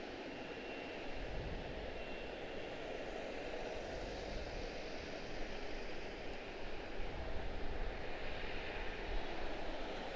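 Embraer jet taxiing at Washington Dulles airport, a steady broadband engine rumble and hiss that swells slightly toward the end, distant and continuous with no talk.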